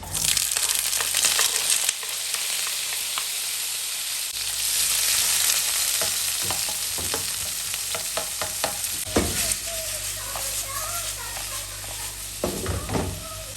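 Vegetables dropped into a hot pot at an outdoor Jamaican street-food cook of roast yam and salt fish, giving a loud hiss and sizzle that settles into steady frying with occasional clatter of utensils.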